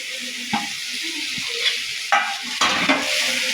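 Fenugreek leaves fry in a hot pan with a continuous sizzle, punctuated by several distinct spatula stirs and scrapes close up, no voices.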